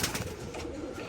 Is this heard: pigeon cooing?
yes